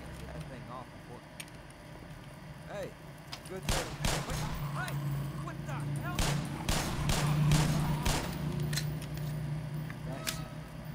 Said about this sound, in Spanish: Casi le disparo en la cabeza.